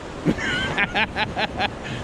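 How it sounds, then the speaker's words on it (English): Strong wind in Denmark buffets the microphone in steady gusts, a broad roaring rush with a few louder bursts and a voice faintly heard underneath. "It is windy as hell here in Denmark."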